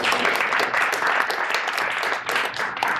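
An indoor audience at a vegan book talk breaks into loud, dense applause that runs steadily for several seconds, dipping slightly midway before swelling again.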